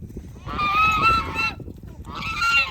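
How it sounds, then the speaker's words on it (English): Barnyard geese honking close by in two loud, nasal bursts, the first longer than the second, over a noisy background of other farm birds and shuffling. "the geese are a little bit of bullies, a little bit."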